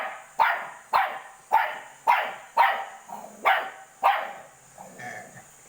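A dog barks repeatedly at a steady pace, seven sharp barks close by, ending with a softer whine-like yelp.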